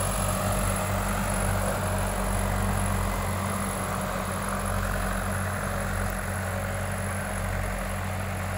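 A Sonalika 750 tractor-drawn tiller doing heavy ploughing in a field, its engine droning steadily with a low throbbing rumble, moderately distant and unbroken for the whole stretch with no talk.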